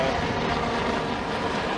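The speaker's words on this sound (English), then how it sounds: "What kind of helicopter? It's flying pretty low." Nassau County police helicopter flying low overhead near a beach boulevard, a steady broadband rotor and engine roar filling the moment with no talk.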